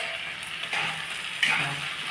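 Tomatoes salted and tossed with chopped green chillies fry in a pan for a masala egg curry, giving a steady close sizzle and hiss with a couple of brief louder bursts as the pan is stirred.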